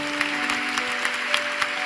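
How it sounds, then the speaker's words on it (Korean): Brief, steady applause from a church congregation at a young adults' worship service, a soft even patter of many hands over a low sustained hum. "모든 영광을 받으신 우리 하나님께 감사의 박수 올려드리시겠습니다"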